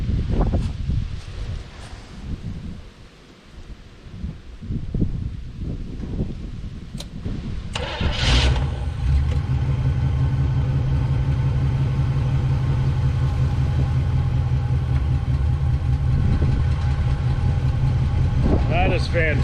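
A 1971 GMC 1500 pickup, run for the first time in years, cranks and fires up, then settles into a steady, loud idle. Rustling and faint voices are heard before it starts.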